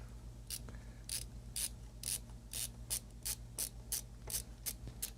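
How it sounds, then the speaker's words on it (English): Screws are driven into an internal power-supply bracket for a Sony SMC-70 computer, giving a steady run of about ten evenly spaced, crisp ratcheting clicks over a low constant hum. "Do the screws actually screw in?"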